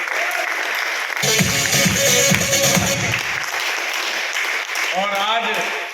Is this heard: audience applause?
yes